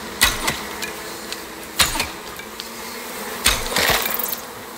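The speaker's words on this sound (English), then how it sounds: "And the bees are back." Bees buzz around the player in the survival video game Icarus, a steady insect drone broken by a few louder swells and sharp bursts, with no voice.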